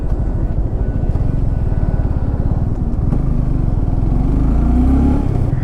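A motorcycle on a main highway drones loudly and close, its engine pulsing fast and steadily under throttle with a rising pitch toward the end. Wind rumble runs underneath, and nobody speaks.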